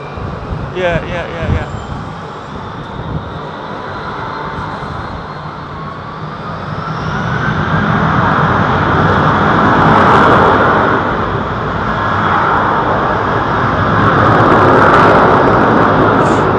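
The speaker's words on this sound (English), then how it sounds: "There's that lovely old beefy 767." A Boeing 767 airliner at London Heathrow Airport, heard as a steady jet roar that swells and holds over many seconds, with a faint tonal whine rising through it and people talking.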